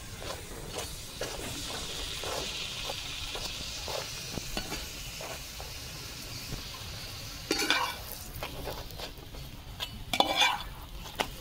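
Paratha frying in a pan, a continuous soft sizzle with steady stirring scrapes and occasional louder metallic clinks of a spatula or utensil against the pan.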